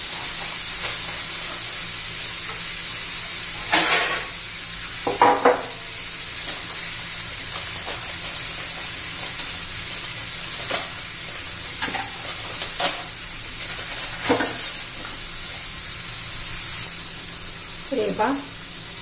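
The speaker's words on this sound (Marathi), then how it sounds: "1-2 मिनिट चांगलं घेऊ हलवून।" Maggi noodles with masala and vegetables sizzling in a pan, a constant frying hiss with occasional scrapes and clinks of stirring, while someone speaks over it.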